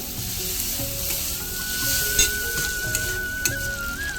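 Finely grated potatoes with mixed spices sizzle in a pan on a low flame, a steady close crackle broken by a few light clicks of stirring.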